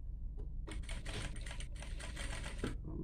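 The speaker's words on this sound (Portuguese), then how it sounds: "Costurando devagar nessas curvas, né? Para elas não entortarem." A sewing machine stitches a fabric bag slowly around curves, producing rapid mechanical clatter in bursts that start and stop, heard close up without voices.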